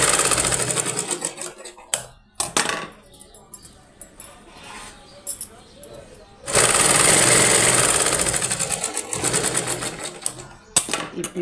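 A sewing machine stitches a blouse in loud, fast bursts, starting and stopping several times with short pauses between runs and one long steady run in the middle; someone talks faintly in the gaps.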